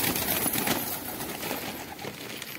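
Hungry pigeons crowd in to feed on grain, giving faint, soft cooing with occasional light wing flaps against a quiet background hiss.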